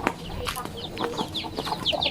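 Several farm chickens cluck and chatter nearby in quick, overlapping bursts over a couple of seconds, with faint outdoor background noise.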